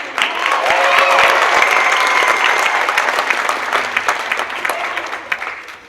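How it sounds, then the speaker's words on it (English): An audience at a youth summer camp tall-tales show bursts into loud, sustained applause for a performer playing Annie Oakley, the clapping swelling early and then gradually thinning toward the end. "please give a big round of applause to Annie Oakley"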